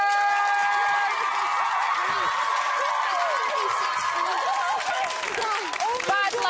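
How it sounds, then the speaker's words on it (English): Studio audience applauding quiz winners on a TV quiz show, a steady sustained wash of clapping and crowd noise with scattered whoops, alongside music. "please give them a huge round of applause"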